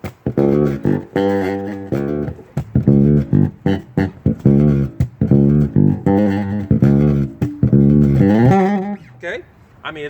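A bass guitar plays funk through the rear pickup alone, giving a tighter, more nasal tone in a rhythmic run of punchy plucked notes with sliding phrases toward the end, close and loud.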